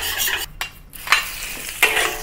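Fatty pork stir-fries in oil in a wok over medium heat, a close, steady sizzle broken by the scrape and clatter of a spatula tossing the meat in a few quick strokes.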